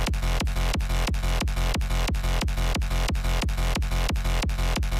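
Punchy kick drum from an FL Studio beat repeats in a steady, even pulse, about two and a half hits per second, loud and upfront, with a sustained bass layer and a busy mix underneath throughout.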